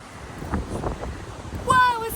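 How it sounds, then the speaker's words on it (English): Steady broadband wind rumble buffets the microphone outdoors, with a few scattered voices and a brief higher whine near the end. "Wow, it's so windy out here!"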